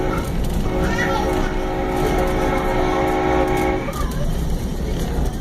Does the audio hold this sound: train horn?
yes